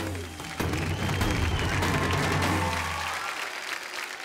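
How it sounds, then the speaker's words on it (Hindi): Studio audience applause on an Indian TV talent show, a dense burst of clapping that swells in quickly, holds steady for a few seconds, then thins out toward the end. "जोरदार तालियां हो जाए"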